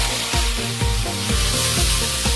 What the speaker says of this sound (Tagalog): Kaya patuloy na isasangkotsa ito hanggang sa mapalabas ang mantika nito.